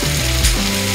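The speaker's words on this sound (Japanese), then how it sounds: "かき出し醤油ね、ほら入れていきたいと思います。" Abalone fried in butter hisses and crackles in a hot pan as soy sauce is added, a steady, loud, close sizzle with a low hum underneath.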